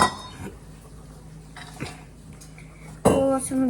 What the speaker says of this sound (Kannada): ನೋಡಿ ಆಗ ತರಕಾರಿ ಹಾಕೋತಾ ಇದ್ದೀನಿ.